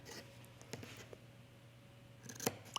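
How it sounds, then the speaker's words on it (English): Sharp-pointed sewing scissors trim a fabric corner on a tunic front placket, giving a few quiet, crisp snips close by with short pauses between, no talking. "I'm grabbing a different pair of scissors for this."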